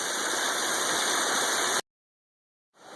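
A small waterfall spills into a creek outdoors, giving a steady broadband rush of water that cuts off abruptly partway through, then returns after about a second of silence.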